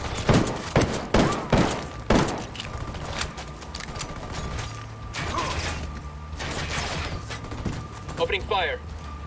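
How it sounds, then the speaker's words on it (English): Rapid bursts of gunfire in the tactical shooter Ghost Recon Wildlands, several sharp close shots in quick succession at the start, then scattered pops and mechanical clatter with brief voices and game sounds in between. "Opening fire."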